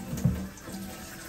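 Kitchen sink tap running water over crab being rinsed and drained, a short, steady splashing wash with a slight surge near the start.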